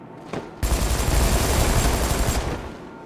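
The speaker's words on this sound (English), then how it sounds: "What's shooting me?" Gunfire in the Batman: Arkham City video game, a dense sustained burst of rapid shots and impacts that starts abruptly after a brief quiet moment and rattles on loudly for about two seconds before cutting off.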